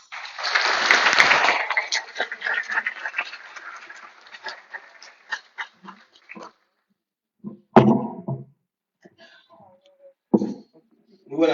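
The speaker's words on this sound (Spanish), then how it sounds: "Fuerte aplauso." A conference audience gives a strong burst of applause that fades within a couple of seconds, followed by scattered noises and a voice speaking.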